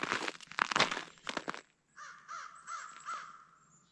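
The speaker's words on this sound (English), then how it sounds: "Crows are pretty vocal this morning." Crows caw on a morning homestead during maple syrup season, a run of four or five rhythmic, moderately distant caws after a burst of rustling and crinkling noise, with no talk.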